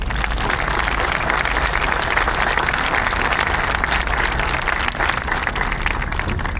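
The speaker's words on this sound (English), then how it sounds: "Would you please give them a big round of applause?" An audience at a Vietnam Veterans Day memorial parade claps in a sustained burst of applause, dense and loud, steady for the whole stretch without a break.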